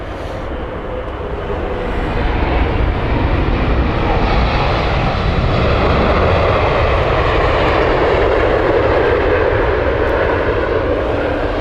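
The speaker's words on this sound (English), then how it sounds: "behind that we have the Hyderabad flight with British Airways 787-8" British Airways Boeing 787-8 jet at Heathrow Airport, a loud, broad engine roar that rises after a couple of seconds and holds steady as the aircraft passes close by.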